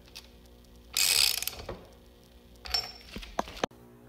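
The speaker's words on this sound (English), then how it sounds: "the socket wrench itself. You just put it in and then tighten it or loosen it by switching this right here" A hand socket wrench ratcheting as it is turned, a dense burst of rapid metallic clicks followed by a shorter run of clicks and a sharp snap, fairly close with no talk.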